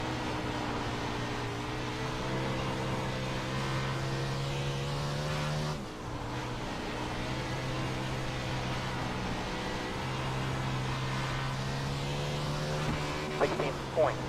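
360 non-wing sprint car engine in the iRacing sim, a steady droning engine note held throughout with a brief dip as the revs shift midway, someone talking over it.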